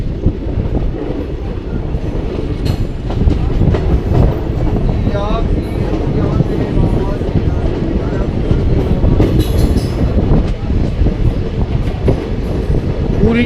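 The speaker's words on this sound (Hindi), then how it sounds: "पूरी ट्रेन बाहर आ चुकी है। एक नंबर डिपार्चर।" The 11274 Vindhyachal Express pulls out of a station with steady rumble and rhythmic wheel clatter, loud and continuous, with brief squeals and a voice talking underneath.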